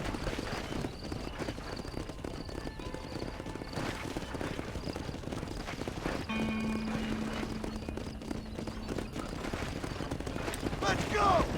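Horses galloping in Red Dead Redemption during a horse race, a steady dense drum of hoofbeats under continuous game ambience and noise, with faint tonal game sounds partway through.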